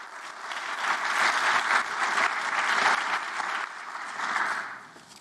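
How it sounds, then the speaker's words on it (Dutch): An audience at the Vrienden van Cobbenhagen Lezing 2022 lecture applauds Wouter Schepens with sustained, even clapping for about five seconds, moderately distant, swelling and then tapering off. "Ook graag een applaus voor Wouter Schepens."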